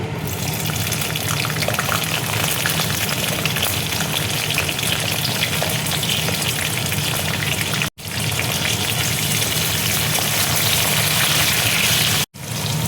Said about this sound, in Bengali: পেঁয়াজটা দেখো খুব বেশি ভাজবো না, হালকা করে আমি ভেজে নেব।